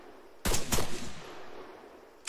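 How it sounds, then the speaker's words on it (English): Gunfire in the military video game Arma 3: two sharp, loud shots in quick succession followed by a long fading echo, then another shot starting at the very end. "Stop shooting me."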